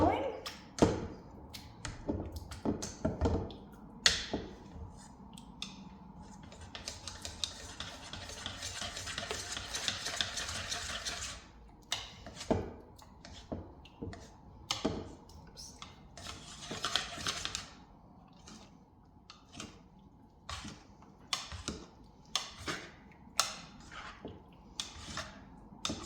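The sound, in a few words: mashing potatoes in a pot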